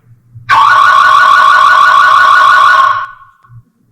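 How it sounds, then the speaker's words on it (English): A loud electronic home security alarm blares for a few seconds with a harsh, rapidly warbling tone, then cuts off abruptly into near quiet. "my alarm system will work"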